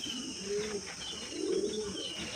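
Pigeons coo softly on a rooftop on a clear morning, a few low murmuring coos rising and falling close by over steady background hiss, with no talking.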